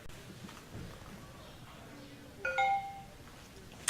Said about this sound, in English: You hear the sound, and the computer recognizes there is something in the USB port